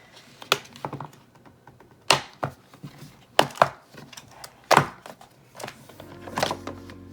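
Gouache paint set package with a matte-coated box being opened: a series of sharp crackling and snapping bursts of cardboard and plastic, loud and close, separated by short pauses, with a rustling stretch near the end.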